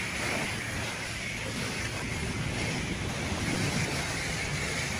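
A steady, loud rush of spray water rinses a car at a self-serve car wash. It holds continuously without a break and carries a faint high whine. No one speaks.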